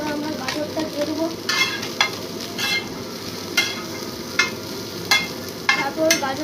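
Grated beetroot frying in hot oil in a pan, a steady close sizzle broken by repeated scraping stirs of a spatula at an irregular rhythm, with no talking.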